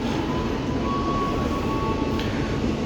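A damaged airport train, hit in an incident at Poris station, being towed in a push-pull arrangement by two locomotives: a steady, loud rolling rumble of rail cars with a faint thin tone above it, continuous and close, no voices.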